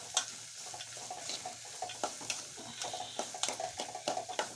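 A spatula scrapes and stirs onions in oil in a pan for chitranna, with irregular taps and soft sizzling throughout, close and fairly quiet.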